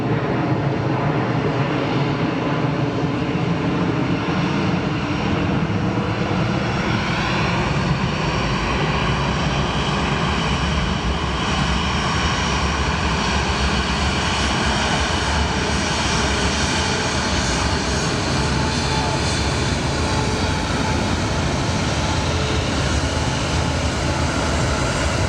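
A large Sichuan Airlines airliner takes off or lands at an airport with a loud, sustained jet engine roar. The roar stays constant and close for the whole stretch, with a slowly shifting whine and no talk.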